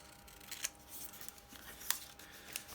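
Scissors cut out a printed paper heading close by, with several quiet snips and paper rustles spaced across a few seconds in a calm room.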